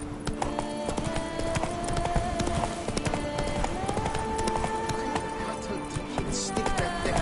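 Rhythmic clip-clop of a horse galloping in The Witcher 3: Blood and Wine, steady and close, with game music and ambience layered underneath.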